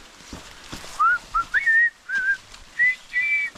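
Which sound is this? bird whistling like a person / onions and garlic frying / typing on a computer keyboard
bird whistling like a person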